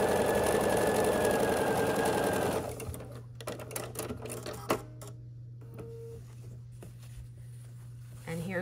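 A home sewing machine piecing long ivory fabric strips for a Halloween quilt, running in a fast steady whir that then stops and gives way to quieter handling sounds, clicks and a low hum.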